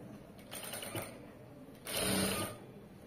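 A sewing machine stitches fabric piping in two short, rapid bursts of mechanical chatter separated by a pause, close up and with no talking.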